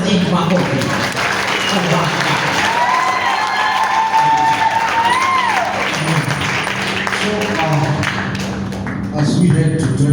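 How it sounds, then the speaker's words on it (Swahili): An audience at a gala night breaks into loud, sustained applause with scattered cheers and shouts, while a voice speaks over the crowd throughout. "Wapi makofi ya Pastor Saint?"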